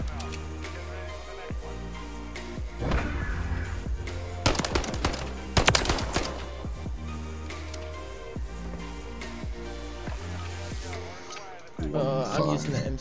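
Rapid bursts of MCW rifle fire in a first-person shooter video game, sustained automatic firing over background game music, with a player talking over parts of it.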